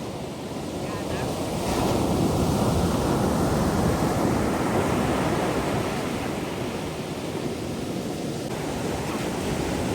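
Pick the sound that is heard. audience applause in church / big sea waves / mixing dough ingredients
big sea waves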